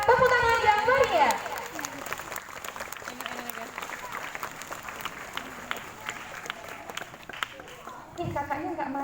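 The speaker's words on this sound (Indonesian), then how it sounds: "Silakan kakak-kakak, tepuk tangan yang meriah." An audience of children and adults claps at a storytelling session, a sustained burst of crowd applause following a voice at the start, with another voice cutting in near the end.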